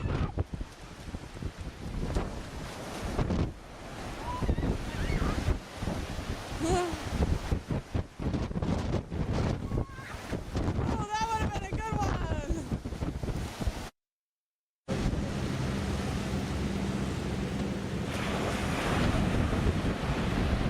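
Ocean surf and gusting wind at Daytona Beach, with broadband wave wash and heavy microphone buffeting running throughout. People talk briefly over it, and there is a short dropout near the end.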